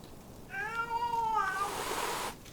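A single long, drawn-out cat meow, close and clear, rising and then fading into a breathy, hissing tail before stopping.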